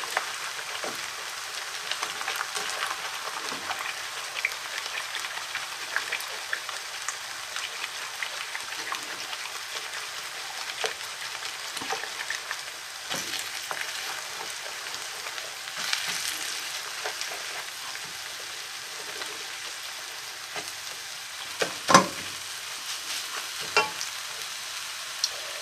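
Vegetarian fried rice with vegetables sizzles steadily in a hot pan for a long stretch, with repeated scraping and stirring strokes over a continuous rain-like crackle heard up close.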